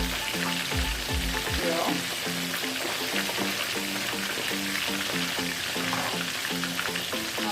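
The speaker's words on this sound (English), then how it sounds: "there's the fish frying up nicely" Snapper fish frying in hot oil for Jamaican escovitch fish, a steady loud sizzle and crackle with a few low clunks near the start and a brief spoken word.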